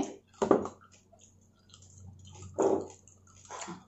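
Close, crunchy chewing of crispy fried pork belly, lechon kawali, with two louder crisp bites and softer wet mastication between them in a quiet room.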